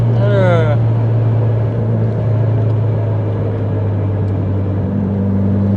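A Mitsubishi Lancer Evolution 7 accelerates hard from close by, its engine holding a loud, steady drone with a sharply rising note at the start, while a person talks over it.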